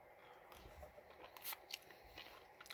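Premium mix mochi ball snack is crunched close to the mic in a few sharp, crisp bites and chews spread over a quiet background.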